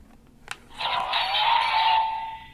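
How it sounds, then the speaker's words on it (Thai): An Ultraman Decker DX Ultra Dual Sword toy failing to read a card gives a sharp click followed by a rising electronic whoosh and a sustained buzzy tone that fades out. "อันนี้เสียงนี่คืออ่านไม่ติด อ่านไม่ออกนะฮะ"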